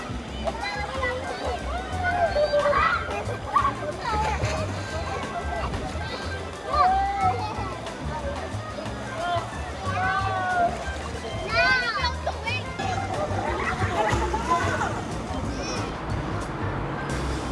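Waves in a resort wave pool splash and wash while children shout and play nearby, with people talking throughout over a busy, echoing crowd.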